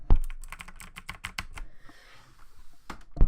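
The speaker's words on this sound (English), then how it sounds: "was probably louder because I put the keyboard in front of the mic" Keys clatter on a computer keyboard set right in front of the microphone, a close, loud burst of rapid clicks, a short pause, then a few more keystrokes.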